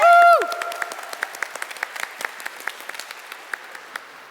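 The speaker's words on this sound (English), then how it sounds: "Give yourselves a round of applause" Children applaud after a summer reading challenge: a brief loud cheer at the start, then scattered, sparse claps spread across the room, with an adult voice briefly over the opening.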